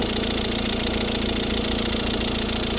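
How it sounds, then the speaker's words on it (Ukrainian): A 2012 Volvo V60 with a 1.6 D2 diesel engine and manual gearbox idles close up, giving a steady, even clatter and hum. The sound holds at a constant level with no revving and no voices. "Тихо працює двигун економічний."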